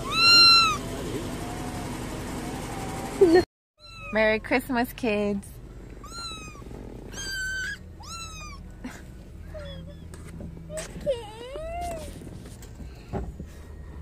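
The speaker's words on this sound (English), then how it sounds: "Look, there's a kitty." Newly arrived pet kittens meow repeatedly, high and close, in a run of short cries after a loud opening stretch, while people talk over them in a home at Christmas.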